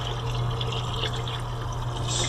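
Water circulates steadily through the heat exchanger of an electric tankless water heater during a flush, a continuous soft rushing flow over a low, constant hum.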